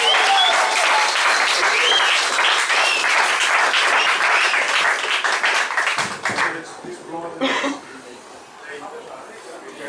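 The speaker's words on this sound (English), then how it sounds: "Let's have a big round of applause" A show audience gives a big round of applause that stays loud and dense, then thins into scattered claps with some voices near the end.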